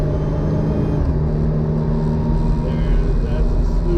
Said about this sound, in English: have a little drive and just listen to the motor